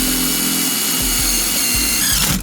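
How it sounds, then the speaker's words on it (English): A loud power drill whines steadily through a Chevy Silverado truck's steel frame at close range, its pitch dipping briefly several times as it bites, then cutting off abruptly. "I've cut your frame, now I'm drilling it."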